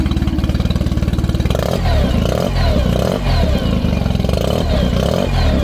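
A close, loud Tohatsu 15hp EFI four-stroke outboard motor, run out of the water, idles with a rapid throb, then revs in several quick bursts, each rising and dropping back, with a deep exhaust rumble.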